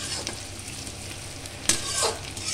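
Onion and green chilli fry in hot oil with panch phoron, a close, steady sizzle with a few sharp spoon scrapes and stirs, no voices.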